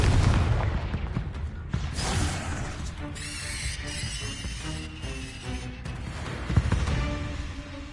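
A Confringo spell blast in Hogwarts Legacy, one of several loud booming bursts and crashes layered over busy spell combat effects and music, with a sharp impact near the end.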